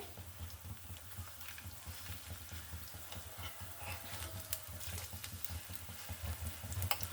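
Egg snacks frying in a home kitchen pan give a steady close sizzle with soft crackle and occasional stirring or flipping scrapes, no voices.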